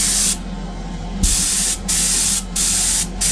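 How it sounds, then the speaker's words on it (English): Spray gun airbrushing base coat onto Greek-style vases: loud, close hissing bursts of spray, one long pass followed by several shorter ones separated by brief pauses. "Now previously I've used this spray gun for clear coat"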